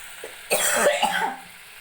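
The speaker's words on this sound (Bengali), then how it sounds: "কাশি হচ্ছে তো" A person in a home kitchen gives a single sharp cough, a short loud burst with a brief rough tail, standing alone in an otherwise quiet room.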